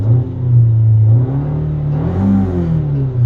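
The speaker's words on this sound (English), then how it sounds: "so let's rev it up." A 2015 Nissan Altima SV with a four-cylinder engine revs up and settles, a loud close steady mechanical drone rising and falling in pitch over about three seconds, with no talking.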